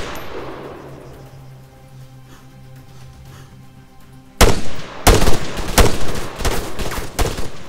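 Rifle and machine gun fire in the Arma 3 infantry combat game: a low, quiet lull gives way to a sudden string of loud, close gunshots in rapid bursts.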